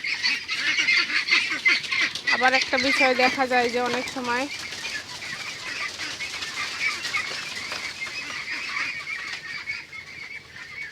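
Domestic ducks honk in a brief run of repeated nasal calls early on, fairly close, set against constant rustling and flapping, while someone talks throughout.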